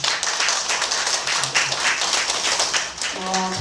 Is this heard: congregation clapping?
yes